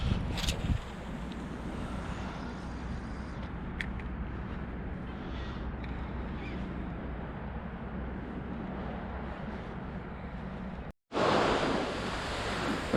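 Ocean surf at a beach in early December, with steady broadband wave wash and wind noise filling the whole stretch, close and loud, briefly cutting out near the end before a louder surge returns.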